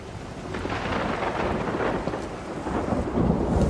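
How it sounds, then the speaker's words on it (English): Thunderstorm with rain in the video game Everybody's Gone To The Rapture: steady heavy rainfall with a low rolling rumble of thunder swelling throughout, loud and continuous with no voices. "There's a thunderstorm going outside."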